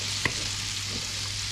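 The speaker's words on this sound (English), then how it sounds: "In go the yabbies, you can hear that sizzle." Yabby tails sizzle in a hot pan with butter, a loud, close, continuous hiss of frying with one brief clink near the start and no voices.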